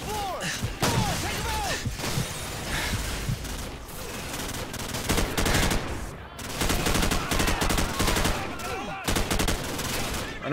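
Rapid shotgun and gunfire blasts from Call of Duty 4 multiplayer fill the clip, dense overlapping shots in bursts with brief gaps, loud and close, with faint game sounds underneath.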